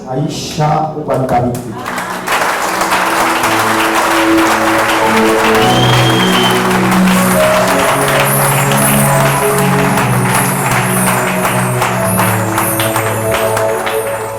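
Dense clapping from an audience fills the room over sustained music, with a voice speaking at times.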